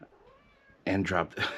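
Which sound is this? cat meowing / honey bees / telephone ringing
cat meowing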